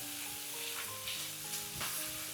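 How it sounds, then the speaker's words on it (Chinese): Bitter melon, sausage, minced garlic and red pepper tossed in a wok over high heat give a dense, continuous sizzle with intermittent stirring scrapes and clanks, close and steady, with no talking. "接着把切好的蒜末、紅椒全部倒入鍋中，繼續開大火快速翻炒"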